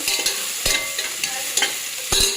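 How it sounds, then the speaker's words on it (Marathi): Onion, ginger and garlic paste fries in hot oil for sambar masala, a steady high sizzle broken every half second or so by the sharp scrape of a spoon stirring the pan, close and loud with no talk. "कांदा अद्रक लसूण पेस्ट करून टाकली छान याला होऊ द्या म्हणजे गुलाबी हो-, होईपर्यंत तळायचं"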